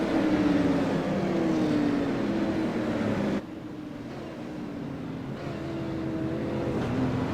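Super late model race cars roar around the Milwaukee Mile oval, engines whining and shifting pitch as they pass, loud and continuous with a sudden cut to a slightly quieter stretch midway.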